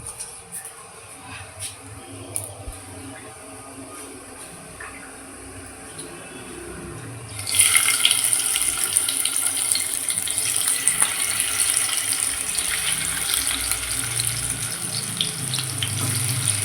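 Rice being washed under a running kitchen tap, a quiet start giving way to a steady loud rush of water, with talk faintly present.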